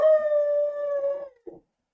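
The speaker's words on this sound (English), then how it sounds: "dog's always howling" A dog howling indoors, one long steady mournful howl of more than a second that tapers off, followed by a brief faint whimpering yip, with no talk.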